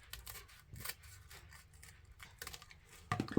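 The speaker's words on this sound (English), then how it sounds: "cut up diagonally to the corner, being careful not to separate those ribbons as I trim the ends here" Scissors snip through stacked ribbon ends, cutting diagonally into the corners for a Christmas wreath, with irregular close, crisp cuts and rustles and a louder burst of snipping at the finish.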